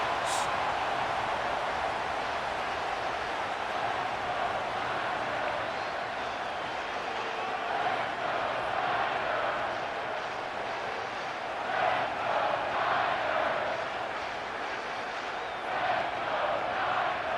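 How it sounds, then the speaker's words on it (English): Stadium crowd in the NFL 26 video game during a 49ers versus Raiders game, a sustained roar of many voices that swells louder in waves, with some talk faintly mixed in. "The crowd cranking it up another notch before third and long."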